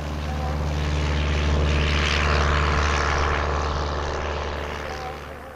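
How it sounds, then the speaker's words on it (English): An Ercoupe light propeller airplane roars down the runway on its takeoff run, its engine drone loud and steady, swelling and then easing slightly as it gathers speed. "Here goes the mighty air coupe. Lloyd Barnes at the wheel, thundering down the runway, gathering speed."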